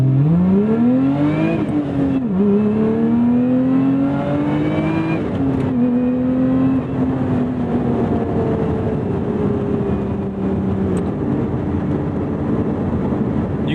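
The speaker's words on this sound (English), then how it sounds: "Let's give you guys a pull." A Lotus Emira or Porsche 718 Cayman GTS 4.0 sports car accelerates hard through several gears, the engine note climbing loudly and dropping briefly at each shift before pulling again.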